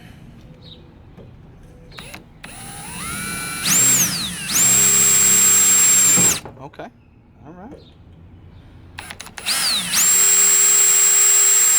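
A power drill drilling through a boat transom whines loudly up close in two long sustained bursts, with short spoken remarks and handling noises in between.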